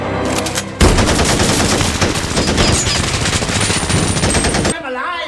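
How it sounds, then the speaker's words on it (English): Sustained rapid gunfire from a film scene, with a gun fired into a ventilation shaft. The burst is loud and close, runs for several seconds, then cuts off abruptly. "Eddie then fired his gun to the ventilation."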